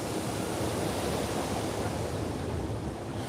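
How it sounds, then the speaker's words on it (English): Surf at Waikiki Beach in Hawaii, a steady broad wash of waves with wind buffeting the microphone, continuous and fairly loud with no talking. "here's what Waikiki Beach looks like 2 days after Christmas"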